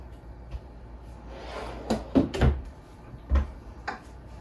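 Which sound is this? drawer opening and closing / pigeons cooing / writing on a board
drawer opening and closing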